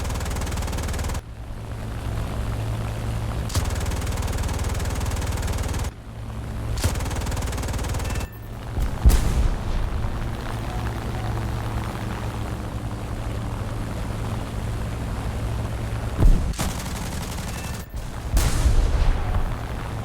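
In War Thunder, artillery and gunfire hammer enemy howitzers: loud cannon blasts and sharp gunshot bursts strike at irregular intervals over a constant low engine drone, with abrupt cuts between shots.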